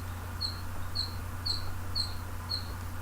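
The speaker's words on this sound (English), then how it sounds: "Birds are chirping outside." Small birds chirp outside in a leafy garden, single high tweets repeating at a steady half-second rhythm against a constant low background hum, moderately distant and clear.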